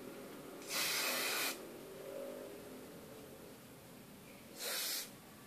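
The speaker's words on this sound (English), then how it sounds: "separating the hair so I can get hairspray all up in there" Two short, loud bursts from a hairspray can misting onto hair while styling overnight waves, separated by a few seconds of quiet room tone.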